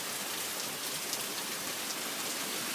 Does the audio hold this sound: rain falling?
yes